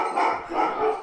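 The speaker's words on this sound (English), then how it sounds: "my dogs are going crazy upstairs." Dogs bark upstairs in a house, a few loud, rough barks in quick succession close together, with no talking over them.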